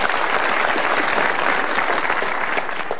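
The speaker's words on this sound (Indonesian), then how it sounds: "Tepuk tangan dulu dong buat Odeta." Steady, dense applause from an audience at an Indonesian motivational seminar, many hands clapping evenly and continuously throughout.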